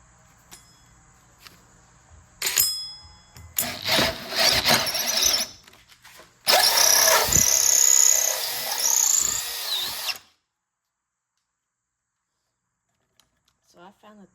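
A DeWalt or older Mellif cordless drill bores into wood in loud, close bursts, first short stop-start pulses and then a long sustained whine that cuts off abruptly. Silence follows.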